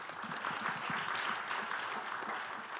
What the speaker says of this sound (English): Let's please give a hand clap to Kelvin.